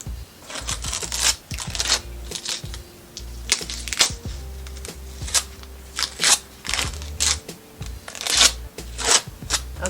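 Acrylic-covered plastic film being peeled off a painting palette, a close, continuous stream of crackling and crinkling with sharp snaps and tearing pops throughout.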